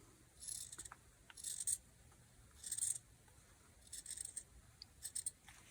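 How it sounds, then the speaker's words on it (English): Scissors trim excess fluff from a glued book spine, giving several soft, quick snips in short irregular clusters, faint and close by, with no talking. "I need to trim, just trim the fluff."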